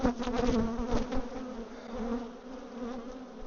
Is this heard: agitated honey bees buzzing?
yes